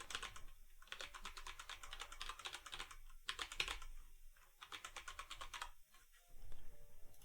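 Rapid typing on a computer keyboard, close and clear, with keys clattering in quick bursts separated by short pauses; no talking.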